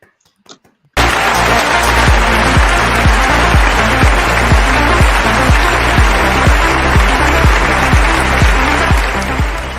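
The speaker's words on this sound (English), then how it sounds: "Great round of applause." An awards ceremony audience applauds after a brief quiet moment, with loud sustained clapping laid over a steady rhythmic music beat that continues throughout.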